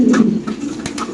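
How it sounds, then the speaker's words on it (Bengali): A red Lahori pigeon coos up close, a few soft throaty rolling notes with no one speaking. "এই যে আমরা কবুতরের ডাকটা একটু দেখা"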